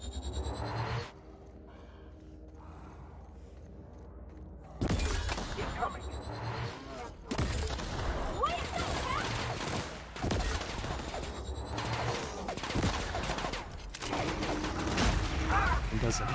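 A plasma launcher fired repeatedly in The Outer Worlds, with roughly five heavy, crackling blasts arriving every couple of seconds after a quieter opening, each followed by a sizzling, shattering tail.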